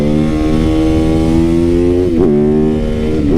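A supermoto motorcycle engine runs loud and steady while being ridden, with a strong harmonic drone and a brief rev dip and recovery partway through, with no talking.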